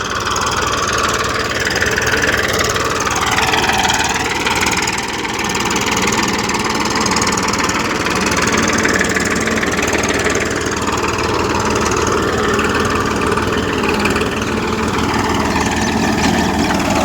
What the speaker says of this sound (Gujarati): સરસ મજાની ટ્રેક્ટરથી કેવી બાજરી પહેરાય છે તે જુઓ.